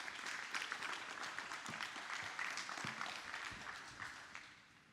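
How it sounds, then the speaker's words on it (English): Audience applause at a hackathon opening ceremony in Sydney, a steady wash of many hands clapping with a few louder claps standing out, moderately distant and sustained throughout. "Please give him a big round of applause"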